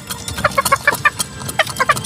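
Gamecocks and native chickens cluck and peck in a rapid, busy patter of short calls and taps while feeding, close by and without talk.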